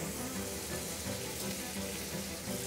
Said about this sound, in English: We'll just pan fry the outside just to seal those flavours in